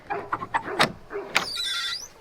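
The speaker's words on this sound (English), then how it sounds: "And I'll open this coop door." Chicken coop door opened up close, giving a few knocks and rattles, then a loud drawn-out squeal of the hinge or slide as it swings.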